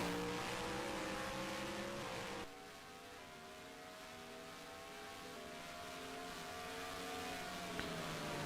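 Race car engines roar in an online sim racing game on a Mexico City circuit, the exhaust note shifting pitch as gears change, with no talk over it.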